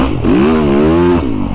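A Yamaha YZ450FX dirt bike engine revs hard and close, its pitch climbing, holding high through a sustained throttle blip, then dropping back. No one speaks over it.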